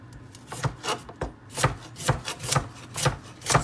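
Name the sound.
chopping carrots into chunks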